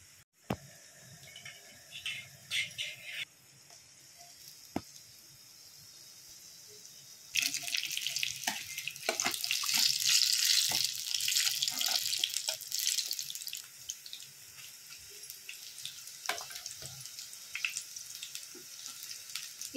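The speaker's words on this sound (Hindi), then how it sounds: "इसे दोनों साइड से अच्छे से फ्राई कर लिया है" Stuffed chilli fritters fry in hot oil over a low gas flame, a steady broadband sizzle with scattered pops and crackles that swells louder midway and keeps going, with no talk over it.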